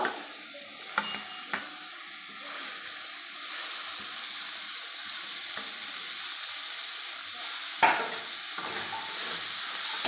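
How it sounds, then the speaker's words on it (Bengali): Steady sizzling of chopped cauliflower frying in hot oil, with a few sharp clinks of a utensil stirring the pan. "এবার আমি ফুলকপি কুচিয়ে নিয়েছিলাম ঝুড়ি করে, এবার আমি তেলের উপরে দিয়ে দেব"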